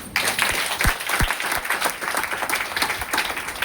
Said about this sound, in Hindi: तो महिला लोग का ताली होना चाहिए।